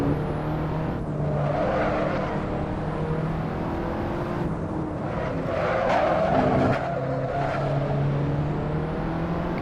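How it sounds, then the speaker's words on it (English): A race car in a VR racing game slides while downshifting too fast for second gear, its engine droning steadily under a rising whine and scrubbing tire noise, loud and continuous throughout. "That there sliding was just a downshifting there and just going a little too fast for the second gear"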